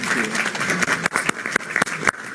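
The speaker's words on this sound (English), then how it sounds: "Can I just have a round of applause for a fantastic panel" Conference audience applauding a panel, a dense wash of many hands clapping at close range, fairly loud and sustained with a few sharper individual claps standing out.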